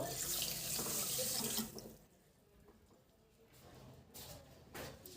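Tap water gushes loudly into a cooking pot for gulab jamun sugar syrup, a steady splashing rush for under two seconds before cutting off, leaving quieter kitchen noises and faint clinks.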